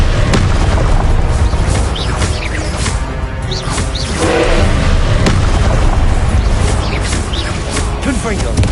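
Spell effects from a Harry Potter video game, including the Confringo blasting curse: loud, repeated booming bursts and crashes over a dense, constant roar of combat, with talk throughout.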